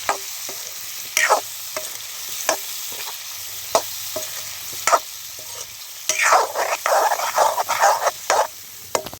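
Intermittent clanks of a spoon against a pan over a soft sizzle of spices cooking in oil for stuffed spiny gourd curry, then a busier stretch of scraping and stirring near the end.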